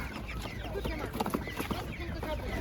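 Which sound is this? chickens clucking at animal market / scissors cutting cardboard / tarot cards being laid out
chickens clucking at animal market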